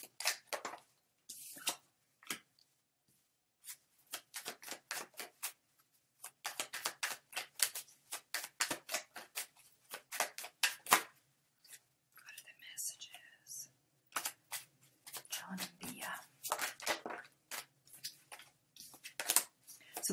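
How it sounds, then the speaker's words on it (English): A deck of tarot-style clarity cards is shuffled in quick, crisp riffling bursts, close and quiet, with brief pauses between runs and soft whispering in between. "So the way I do my card readings is I shuffle till one card falls out."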